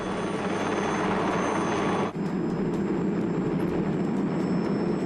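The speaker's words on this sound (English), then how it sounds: "Testbed was the 16H-1 Pathfinder, Piasecki's first single main-rotor helicopter since the early PV-2." A Piasecki 16H-1 Pathfinder single main-rotor helicopter with a ringtail fan, a steady loud roar of rotor and engine noise throughout, holding constant with only a momentary dip.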